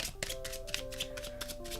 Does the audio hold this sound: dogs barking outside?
no